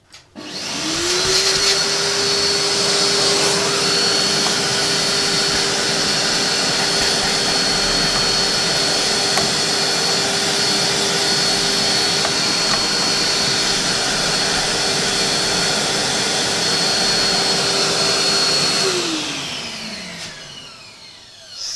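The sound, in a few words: vacuum cleaner removing dust from computer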